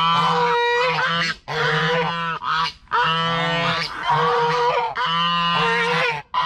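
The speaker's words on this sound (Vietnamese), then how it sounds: "Wow, một con ngỗng các bạn ơi." A goose on a pond honks repeatedly in loud, close calls, several bursts over a few seconds with short pauses between them.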